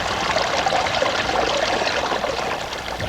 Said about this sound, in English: the beautiful sound of running water